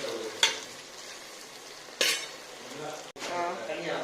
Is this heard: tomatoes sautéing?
yes